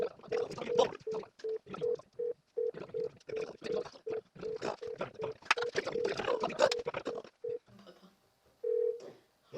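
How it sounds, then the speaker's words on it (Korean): A telephone is dialed, with a steady run of short, evenly spaced keypad tones sounding under continuous talk from a presenter in a student church online service, ending in a longer held tone. "3월 생일자 이준서 학생에게 전화를 걸어보겠습니다"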